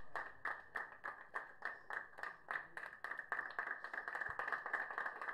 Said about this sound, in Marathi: जोरदार टाळ्या होत्या निपाणी टीम साठी.